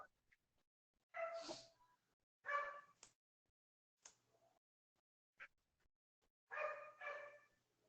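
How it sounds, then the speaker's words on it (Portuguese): A dog barks in the background of a remote participant's line during an online municipal council meeting, in three short clusters of a couple of barks each, with faint clicks between them. "Tem um cachorro latindo aí."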